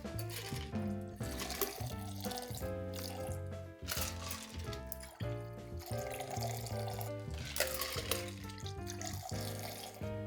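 Mezcal Negroni cocktail thrown back and forth between mixing tins: a steady, fairly faint liquid pouring and splashing runs continuously over about ten seconds with slight surges, and no voices.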